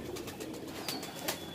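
Soft, low cooing of a small Punjabi Malwai pigeon rises and falls beneath faint background noise in a breeding setup, with a couple of brief sharper sounds near the end.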